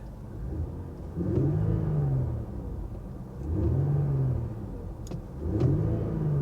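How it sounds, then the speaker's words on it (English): A 2019 Infiniti Q50 engine revs up three times in steady cycles, each rise in pitch swelling and then easing back to a rumbling idle, close and fairly loud. "let's give it a little rev."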